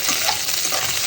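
Ivy gourd and green chillies fry in a pan with cumin and curry leaves, giving a loud, steady sizzle with stirring scrapes throughout a brief stretch, with no talking.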